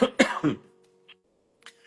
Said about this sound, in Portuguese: desculpa que eu tô com uma tosse danada